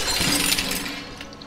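An object knocked over in the video game Stray shatters with a loud burst of breaking glass, bright crashing debris tinkling for about a second before fading out; no talk.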